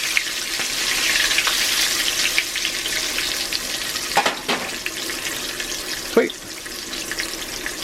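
Chicken pieces fry in oil in a cast iron pan, giving a steady, close broadband sizzle throughout with a couple of brief clatters or splashes mid-way and near the end, and no talking.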